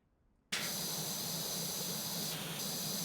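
A pressure washer sprays steadily in the PowerWash Simulator game, a continuous loud hiss that starts abruptly after a short quiet moment and holds on without a break.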